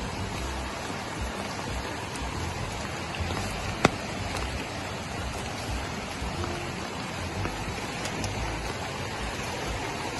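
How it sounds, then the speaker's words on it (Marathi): Steady rain pours down beside a muddy, swollen river in Ratnagiri, Konkan, a dense unbroken hiss of drops on surfaces with one brief louder knock partway through. "कालपासून पाऊस पडतोय."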